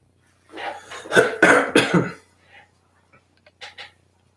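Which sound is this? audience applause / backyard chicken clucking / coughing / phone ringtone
coughing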